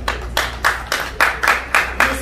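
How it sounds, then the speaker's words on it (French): Wedding guests at Pierrot and Clarisse Ndombasi's wedding clap together in a steady rhythm, about eight sharp, loud beats evenly spaced and close by. "On peut encore applaudir?"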